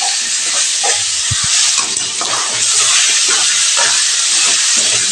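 Half a kilo of cleaned liver frying in a pan, giving a steady, loud, close sizzling hiss that carries on without a break, with faint clinks underneath.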